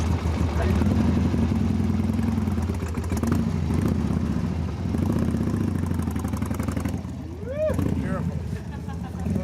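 A Honda 70 motorcycle engine runs with a steady, close putter that rises and falls slightly, while people talk over it throughout.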